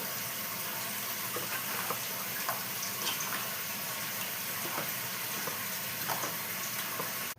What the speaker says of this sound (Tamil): மிளகு ரசம் நல்ல கொதி வரா மாதிரி இருக்குது.